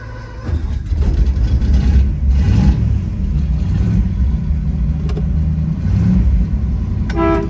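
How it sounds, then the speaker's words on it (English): A 1956 Ford Crown Victoria's engine rumbles loudly at close range as it starts and idles, with a few short horn honks over the steady running. "Horn works."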